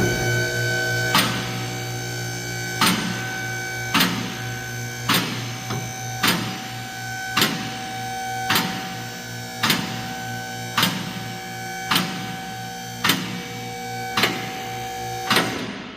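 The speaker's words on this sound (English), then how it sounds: "Got my lift set, so I'm gonna" A car lift raises a Nissan Altima with a steady motor hum and sharp, evenly spaced clicks about once every second, close and alone.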